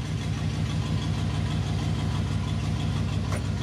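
OBS Chevy truck engine idling steadily with a deep, even rumble while the transmission is shifted back and forth between reverse and drive, close and continuous with no talk.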